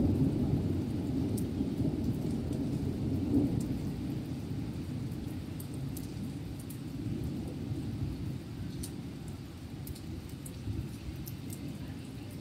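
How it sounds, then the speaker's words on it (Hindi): Steady rain pours down with deep rolling thunder rumbling through, loud and continuous during a monsoon day, with no talking over it. "आप सुन रहे हो ना बारिश की आवाज़ कैसी आ रही है, तो साथ साथ बिजली कड़कने की भी आवाज़ आ रही है"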